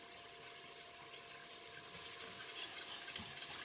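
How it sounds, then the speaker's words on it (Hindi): Water poured into roasted gram flour and stirred in a pot, making a soft, steady liquid splashing and swirling that stays faint and continuous. "साथ में तकरीबन 1 गिलास पानी डालकर अच्छे तरीके से मिक्स कर लें"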